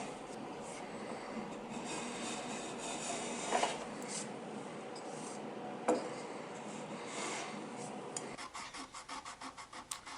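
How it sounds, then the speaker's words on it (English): A block plane is pushed along the wooden splines of a picture frame, making a steady rasping scrape of shaving with a few sharp catches. It ends in a quick series of short, rhythmic strokes. "I did the final cleanup of the splines with a block plane."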